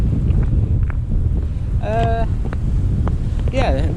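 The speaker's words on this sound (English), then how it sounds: "the weather is absolutely stunning apart from the wind" Strong coastal wind buffets the microphone in a steady low rumble, while short voice-like snippets and faint tones break through now and then.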